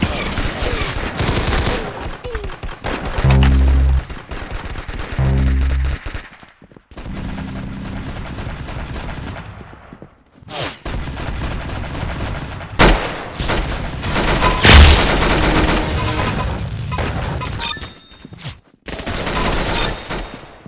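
Rapid gunfire from the Arsenal shooter game crackles in dense bursts and sustained volleys, loud and close, with brief pauses between strings of shots and no talking.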